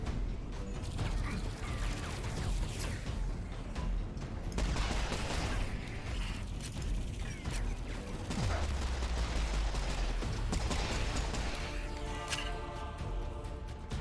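Pistol shots ring out in a shooter video game, scattered sharp cracks amid busy mechanical clatter and other in-game effects, loud and close throughout.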